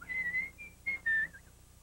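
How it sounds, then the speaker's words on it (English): A person whistles a short call of a few clear, rising and falling notes in separate bursts, close and fairly soft, with no talking. "I'll whistle for him."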